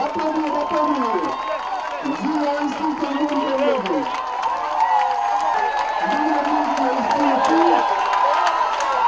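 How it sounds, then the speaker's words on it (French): Crowd at a Gabonese opposition and civil society rally clapping and cheering, a broad noisy roar under an amplified voice talking over it through a loudspeaker. "je vous demande d'applaudir."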